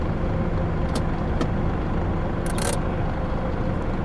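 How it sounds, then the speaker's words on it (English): A parked bus in the Bus Driver Simulator game sets its handbrake with a brief, bright hissing burst. The burst rises over a steady, loud engine rumble that runs through the whole clip. "That's not the right noise for a handbrake."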